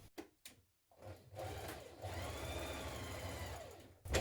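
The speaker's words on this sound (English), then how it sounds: "we're going to stitch this short seam with our seam allowance" Sewing machine stitching a short neckband seam on a beginner's top, starting after a few clicks and then running in a steady, close whirring hum for about three seconds before stopping.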